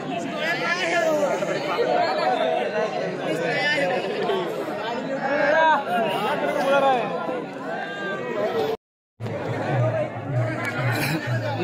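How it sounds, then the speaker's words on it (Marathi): Dense crowd chatter at the Shivrajyabhishek festival in 2024: many overlapping voices in a loud, continuous babble, briefly cut to silence near the end before resuming. "नुसती गर्दी."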